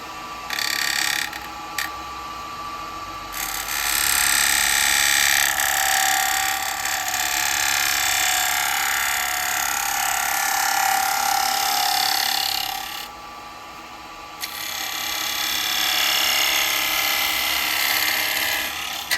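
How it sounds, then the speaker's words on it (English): A bowl gouge cuts a wooden plate spinning on a lathe, making a loud, sustained rough scraping hiss that rises and drops as the tool engages and lifts off, with short breaks between passes. "going back onto that bowl gouge"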